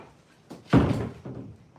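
A house door swings open and shuts to let dogs in, a single solid thump with a brief rattle, close by and otherwise quiet.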